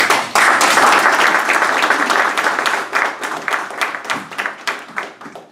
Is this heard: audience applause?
yes